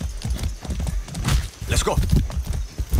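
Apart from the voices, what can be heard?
horse hooves clip-clopping in video game Far Cry 6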